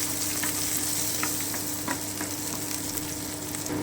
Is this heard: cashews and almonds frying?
yes